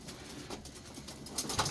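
Soft cooing of fancy embroidered-breed domestic pigeons, a low murmuring coo from nearby birds with no talk, brighter chirpy bursts rising near the end.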